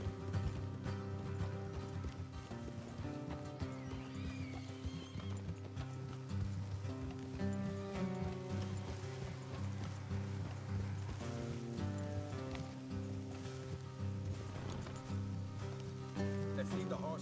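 Steady hoofbeats of horses walking in the video game Red Dead Redemption 2 clop along in a continuous rhythm, mixed with a low background rumble and occasional snorts.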